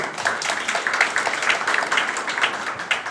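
An audience applauding at a youth history research competition before middle school students' video presentation, many hands clapping in a dense, even patter at moderate loudness, with faint voices mixed in.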